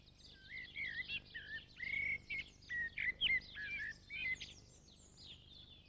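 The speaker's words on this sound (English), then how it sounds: "The blackbird's song is full, rich and melodious, more elaborate and much deeper than the missel thrush" A blackbird sings a full, rich, melodious song of warbling phrases separated by short pauses, close and clear with no talk.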